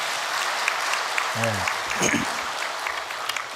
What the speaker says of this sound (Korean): 박수 한번 다시 한번 쳐주십시오.